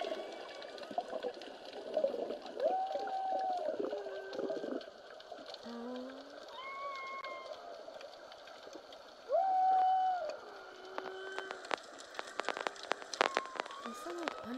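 Underwater whale calls, several drawn-out moaning and whistling tones rising and falling at moderate distance, surrounded by a soft watery hiss and scattered clicks and crackles toward the end, with no talk.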